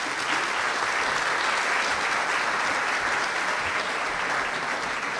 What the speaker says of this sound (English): So if I can get a round of applause for Dean Stein.